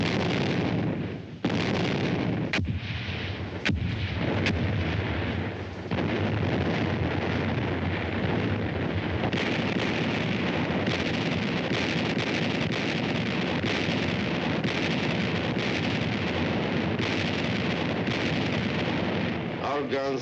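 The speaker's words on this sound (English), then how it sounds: "Guns have the city under heavy shelling." Heavy artillery shelling of Berlin in wartime, a continuous roar of distant guns with repeated sharp bursts and booms, loud and dense throughout.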